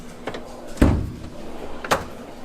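A tool chest drawer holding gear wrenches and hammers slides open with a soft rumble and a thump, followed by a lighter clack a moment later, close by in a quiet room.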